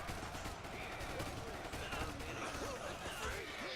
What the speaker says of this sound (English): They're just firing at whoever they can.